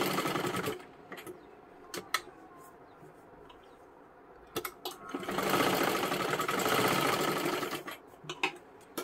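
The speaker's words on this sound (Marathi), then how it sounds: "हे दोन्ही सुद्धा टक्स आपण इथे शिलाई करून तयार केले" Sewing machine stitching tucks on a blouse in short bursts: a brief run at the start, a few quick taps, then a longer steady whirring stretch of a few seconds, with quiet gaps between.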